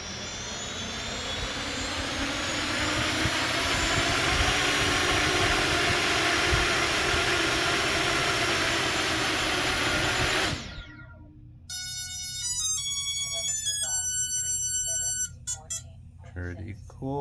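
Demibot FPV quadcopter motors ramp up on the bench from a power supply: a loud, steady whine that climbs in pitch for about ten seconds, then cuts off abruptly into a series of short electronic beep tones.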